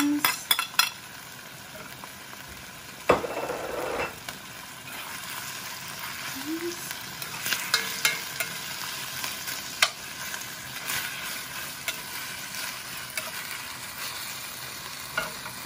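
Garlic and onions fry in a pan for Korean glass noodles, a steady sizzle with frequent utensil clicks and stirring scrapes, and a louder spatter burst around the third second.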